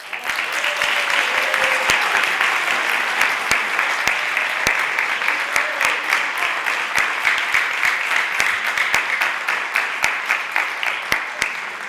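Sustained audience applause at a Camden High award ceremony honoring Nancy Walker-Hunter, steady and full for the whole stretch with scattered sharper claps standing out near the front, no voices over it.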